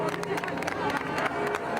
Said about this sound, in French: tout le monde qui l'applaudit, qui s'était rassemblé pour la voir depuis le parvis de l'église